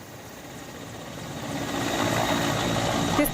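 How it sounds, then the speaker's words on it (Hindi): Air force helicopter hovering over floodwaters during a rescue in Naushera, a steady rotor and engine drone that grows slightly louder and fuller partway through, with no voices. "देखिए किस तरीके से हेलीकॉप्टर रुकता है"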